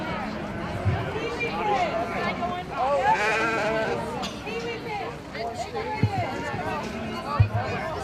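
White-faced market lambs at the Sheridan County Fair show ring bleat repeatedly, several overlapping calls near and far, over a murmuring crowd and an announcer's voice.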